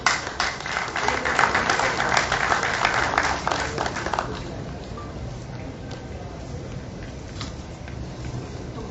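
Applause from an audience at a sports award ceremony at Jammu Club, dense clapping filling the first half and then thinning into scattered claps and low crowd murmur.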